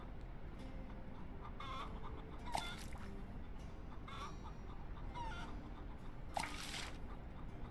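Chickens in the video game Noble Legacy cluck in a few short, separate bursts over a steady, soft background ambience, with no voices.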